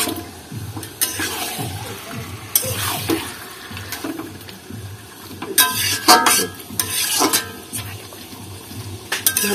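Mutton is stirred and sautéed in a pan in a home kitchen, with uneven bursts of scraping and sizzling between quieter moments, close and fairly loud.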